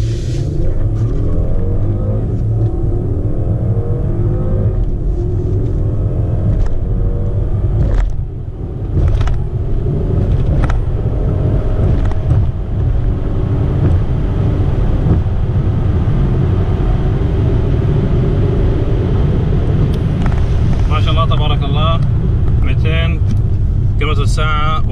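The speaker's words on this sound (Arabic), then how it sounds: "تسارع مرسيدس 3450" A 2018 Mercedes S450 car accelerating, its engine rumble steady and loud through the cabin with someone talking over it throughout, ending with brief electronic chimes.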